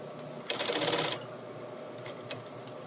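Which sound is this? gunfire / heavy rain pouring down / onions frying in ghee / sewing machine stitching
sewing machine stitching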